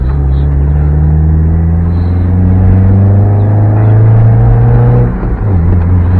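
A Mazda Miata being driven on neighborhood roads, heard from inside as a steady low engine drone and rumble with rising and falling tones as the revs shift, with a brief drop near the end.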